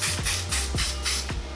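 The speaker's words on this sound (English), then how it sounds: "so you're gonna take your hairspray" Hairspray from an aerosol can sprayed in several short hissing bursts onto the edge of a lace front wig, close and steady, with no talking.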